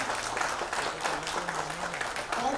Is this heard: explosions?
no